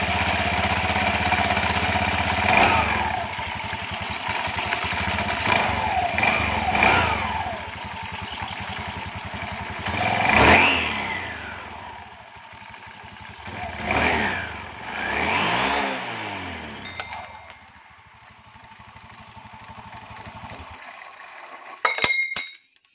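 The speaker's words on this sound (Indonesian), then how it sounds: "Di sini motor sudah saya buka rumah CVT-nya. Dan sekarang kita hidupkan," Motorcycle engine running with its CVT housing opened up, a steady near mechanical drone with light metallic clinking and a few rises in revs, then cutting off near the end.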